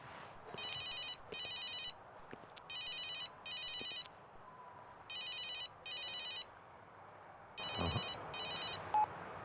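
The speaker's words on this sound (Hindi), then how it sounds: "कोई फोन ही नहीं उठा रहा है।" An unanswered telephone rings in bursts: paired electronic trills repeat four times over several seconds against a quiet room background, with a brief clunk near the end.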